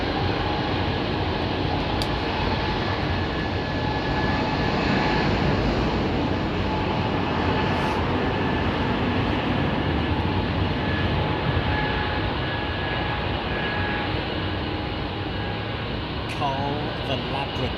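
An airliner departing London Heathrow Airport gives a loud, steady engine roar that holds throughout, with occasional voices faintly underneath.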